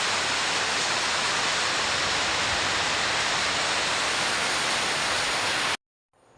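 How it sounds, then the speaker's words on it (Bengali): Steady, heavy rain pours down as a dense, even hiss close by, holding unchanged for several seconds before cutting off abruptly. "তো চলো, এরকম বৃষ্টি হলে খুব ভালো লাগে।"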